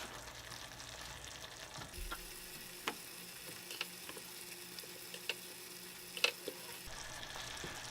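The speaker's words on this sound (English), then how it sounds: "Let's take our Hawaiian bread. We're just gonna chop that down the middle, and we're gonna toast these bad boys off." Hawaiian bread halves toast in a hot pan, a faint steady sizzle with scattered small ticks and pops, no voices.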